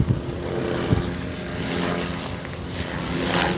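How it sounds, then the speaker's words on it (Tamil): A helicopter flies over a lake in Hyderabad, making a continuous broad engine drone at moderate distance with no voices. "ஹெலிகாப்டர் பறந்துக்கிட்டே தான் இருக்குது"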